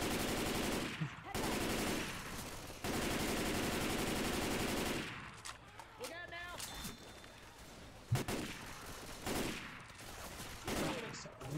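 Gunfire in a zombie shooter game set in an infected mall, bursts of loud rapid automatic fire with long dense stretches and sharper single shots, while players talk over it.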